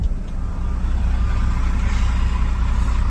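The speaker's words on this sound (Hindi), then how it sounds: "लोडर है ये उठा के कोयला गाड़ी में देखा होते लोड करते" A loader works beside a coal truck at the SECL Gevra mine in a dense, steady low rumble of heavy diesel machinery that holds for the whole stretch.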